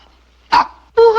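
A small dog named in an old film scene gives two sharp, loud yips close by, one after a brief pause, with nothing else around them.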